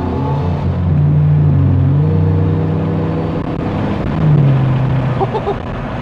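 A Chevrolet S10 Xtreme pickup's engine is pushed to full throttle, a loud, steady low rumble that rises in pitch and swells again partway through, heard from inside the cab.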